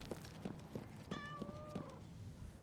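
A cat meows in the game Destiny Rising, one drawn-out mew rising then falling, fairly faint over a steady run of footsteps and ambient game noise.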